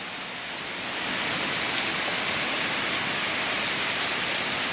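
Heavy rain pours steadily in Aquiraz, Ceará, a dense continuous hiss that swells during the first second and then holds loud and even, with no talking.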